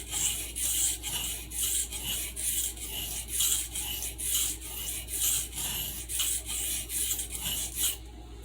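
Stockman sheepsfoot knife blade pushed back and forth across a sharpening stone, about fifteen rhythmic rasping strokes at a steady pace, close and clear with no talk.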